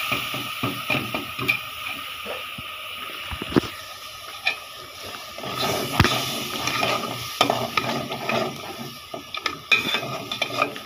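Water is added to biryani masala frying in a pan, followed by sizzling and repeated stirring, with spoon scrapes and knocks against the pan in an irregular rhythm, heard close up and alone.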